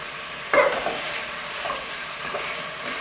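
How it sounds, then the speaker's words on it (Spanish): A seasoned pork bone browns in a pot for morocho soup, opening with a sharp burst of sizzle as it hits the hot fat, then a softer steady frying hiss. "Ahí dejo que se dore mi huesito porque la grasita que bota es la que le va a dar el sabor a mi sopita"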